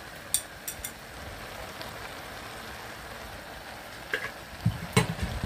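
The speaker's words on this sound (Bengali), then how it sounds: "বন্ধুরা, আমার সবজিগুলো কষে গিয়েছে, এখন আমি ভালোভাবে নেড়ে দিব।" Mixed vegetables with capsicum and chillies being stirred in a pan as they fry, with a soft steady sizzle broken by a few sharp scraping clinks of the spoon near the start and end.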